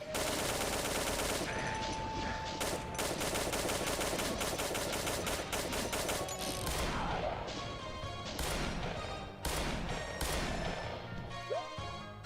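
Dense gunfire in a video game, rapid automatic bursts and single shots cracking loud and close in continuous volleys with brief gaps, a voice speaking briefly under the shooting.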